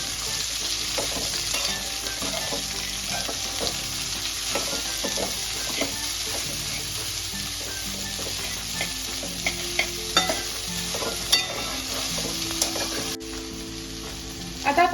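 Okra (bhendi) stir-fried in hot oil gives a steady, dense sizzle, with a spoon scraping and tapping the pan at irregular intervals and a few sharper clinks near the end. No one speaks.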